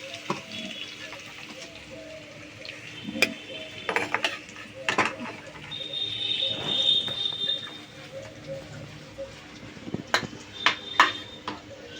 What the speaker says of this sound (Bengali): ফুলকপিগুলো ভাজা হয়ে গেছে এবার তুলে নিচ্ছি